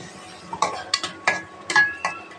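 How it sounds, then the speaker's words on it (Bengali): Spoon stirring and scraping cumin, coriander powder and mixed spices frying in oil in a cooking pan, with about six distinct clinking scrapes in an uneven rhythm over a low background sizzle, close and clear. "সব মশলা একসাথে দিয়ে মিক্স করে ভালো করে মশলাটা সুন্দর করে কষাই দেব"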